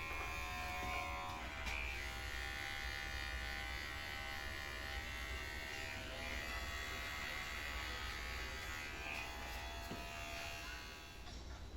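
Electric hair clippers buzz steadily throughout a home haircut, a continuous close hum that shifts slightly in pitch as they move through hair, with a quiet voice faintly in the background.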